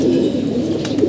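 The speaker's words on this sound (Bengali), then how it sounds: "আমাদের 3টা কবুতর বের হয়েছে" Domestic pigeons coo in a low, soft, continuous burble close by, a brief murmuring stretch with no voices.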